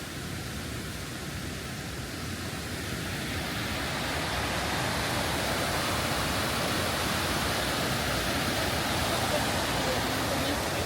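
A lower waterfall in Scotland roars as a steady, dense rush of falling water that holds even and loud throughout, with no break or change.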